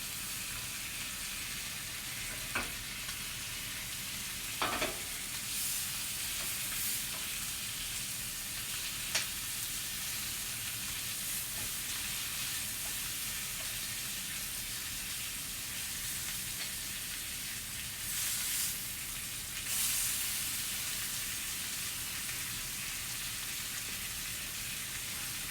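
Potatoes fry in a pan with a continuous, dense sizzle like light rain, broken by a few scattered clicks and scrapes, close and steady throughout with no talk.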